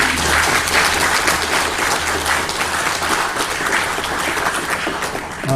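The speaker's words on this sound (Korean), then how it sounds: "하나님께 영광의 박수를 한번 올리겠습니다." Congregation applauding together at a church ordination thanksgiving service in a Korean church, a dense, steady wash of clapping from many hands that holds loudly for the full stretch without a break.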